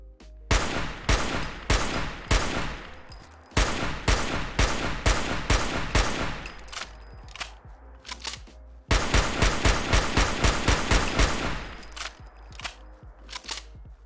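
A modded semi-automatic weapon fires in Fallout 4: sharp, loud single shots in quick, rhythmic succession, in several strings with brief pauses between them, each shot ringing with a short echo.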